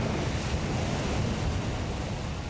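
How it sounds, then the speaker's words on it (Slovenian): Strong wind at a hot-air balloon launch roars as a dense, steady buffeting rush across the microphone, loud and unbroken throughout, with no voices. "Ker pa je bil veter premočan"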